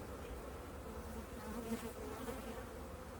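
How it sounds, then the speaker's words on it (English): Honeybees at an open top bar hive during an inspection give a steady, dense buzzing drone that holds constant throughout, moderately close with no talking. "It's still plenty of honeybee, right?"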